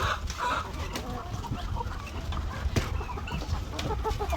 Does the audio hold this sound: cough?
no